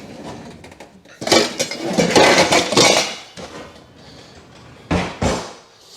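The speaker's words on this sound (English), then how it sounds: "going to stick a pot lid on here" Metal pot lid picked up with clanks and clatters, then set down over a bowl of dinner roll dough in a home kitchen, a burst of loud metallic knocks followed by two sharp closing clunks.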